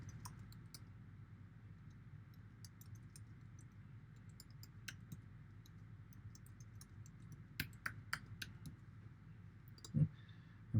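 Mouse clicks while working in the Azure portal: a few sharp, quiet clicks spread over a low steady room hum, with a louder pair of clicks near the end.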